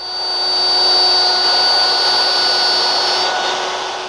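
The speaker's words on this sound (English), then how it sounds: "I adjust the turret to the middle step, which allows me to plunge a little deeper and make a second pass." Plunge router cutting a mortise on a second, slightly deeper pass, a steady high-pitched motor whine with a cutting rasp that holds loud and even for about four seconds, alone without talk.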